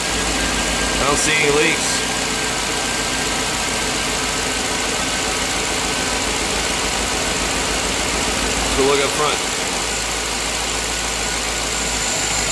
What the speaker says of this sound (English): But there sounds like a new engine.